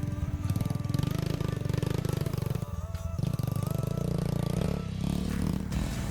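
A Honda TRX250X ATV with a performance exhaust and jet kit: a loud, steady engine roar with a rapid, chattering exhaust pulse, holding a fairly constant pace with slight dips and surges, close by and without voices.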